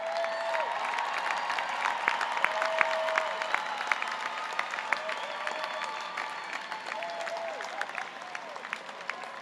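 Sustained applause from a large commencement crowd honoring graduates with academic honors, steady clapping throughout with a few scattered cheers in a big hall.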